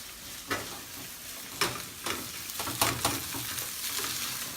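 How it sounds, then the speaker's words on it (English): Egg white and bacon sizzle in a pan beneath a series of scraping, clacking strokes as the food is stirred and pushed around, close and moderately loud. "heat it up with the egg white and my bacon"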